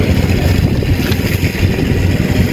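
A rice harvesting machine works a paddy field during harvest, giving a loud, steady engine drone with a rumbling low end that runs unbroken throughout, with no talking.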